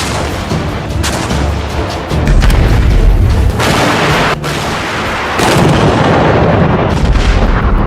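An American howitzer cannon fires in loud, deep booms that roll into sustained rumbling blasts, very close and heavy, with no voices.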